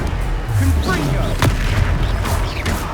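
A Confringo fire spell bursts in a Hogwarts Legacy duel, a single loud booming explosion with a sharp crack near the middle, set among game music and other spell effects, with voices heard around it.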